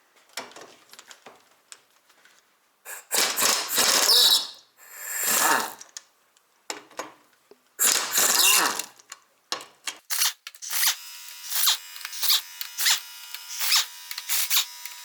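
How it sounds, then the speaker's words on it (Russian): Bolts come off a BMW R1200GS final drive cover with a ratchet: bursts of fast, close clicking and ratcheting with short pauses between, and someone talks now and then between the bursts. "дальше нам необходимо открутить все вот эти вот болты"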